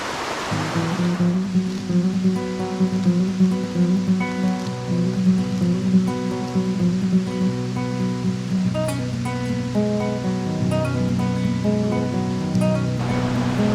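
Two mountain creeks merge in Pisgah National Forest, their rushing water making a loud, constant roar that fills the whole stretch without pause or voices.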